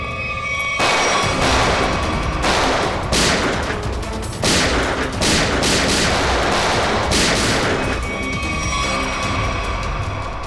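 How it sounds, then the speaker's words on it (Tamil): Heavy gunfire from a Tamil CID TV drama comes in loud, close volleys of rapid shots, separated by brief pauses, with no talk. "இவ்வளோ நேரம் குண்டு மலை பொழிஞ்சிட்டு இப்போ சைலண்டா இருக்கானுங்க"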